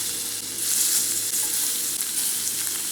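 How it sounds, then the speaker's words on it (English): Shrimp fry in olive oil and butter in a skillet, a close, loud, continuous sizzle with no talking. "Into a skillet, we're gonna add a little bit of olive oil, a pat of butter, and now add the shrimp."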